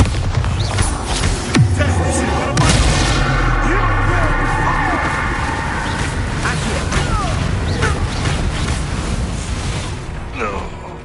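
A Bombarda blast spell goes off in a Harry Potter video game, a loud booming explosion with crashing debris that rumbles on and slowly fades over several seconds.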